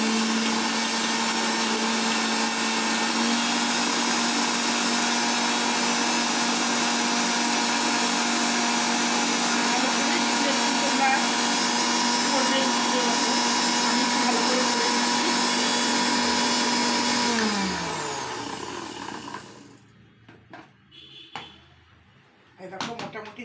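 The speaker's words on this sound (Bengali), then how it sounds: "মিক্সি মেশিনে এটা আমি গুঁড়ো করে নিচ্ছি।" A kitchen mixer grinder powders roasted ajwain in a loud, steady, high whirring drone for about eighteen seconds, then winds down and stops, followed by faint clatter.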